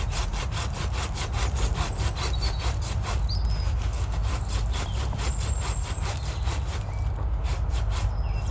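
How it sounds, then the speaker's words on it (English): Silky pruning saw cutting through a branch, a steady loud rasping rhythm of rapid back-and-forth strokes running the whole time, close up with no talking. "with a silky saw we would cut it there"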